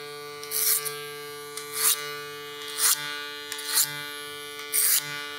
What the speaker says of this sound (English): So with the clipper over comb, I'm gonna slide my comb in